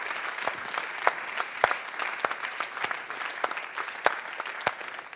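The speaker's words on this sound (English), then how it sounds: "One big clap for that one." Conference audience clapping at a development forum on undernutrition, a continuous spread of applause with sharp individual claps standing out, heard at a moderate distance.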